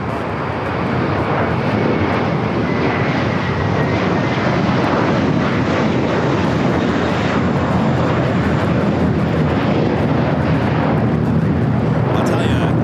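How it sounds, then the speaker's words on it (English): Delta Boeing 757 under tow at LAX, a steady broadband aircraft rumble close by and fairly loud throughout, with a voice talking over it. "Towing over one of these Delta 757s, usually used for sports charters."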